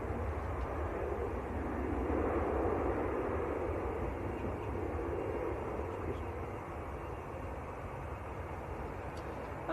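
A TUI Boeing Dreamliner airliner at Manchester Airport produces a steady, broad jet rumble from a distance, swelling slightly midway and then settling into a continuous hum.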